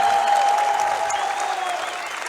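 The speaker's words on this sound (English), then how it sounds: "One big round of applause" At a CS:GO LAN finals event, an audience bursts into a short round of applause, dense clapping from a large crowd that fades slightly over about two seconds.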